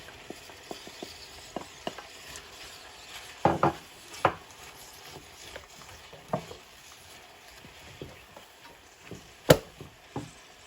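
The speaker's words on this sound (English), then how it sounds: "I'll add my peas now" Peas go into a pie filling and are stirred, with soft scattered taps and wooden clacks of a spoon against the pot, fairly quiet and close, irregular over several seconds.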